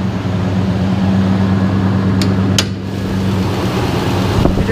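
A 2012 Nissan Titan pickup with a 5.6-liter V8 idling: a steady, smooth low hum with a constant tonal drone and a couple of faint clicks, heard alone without talk.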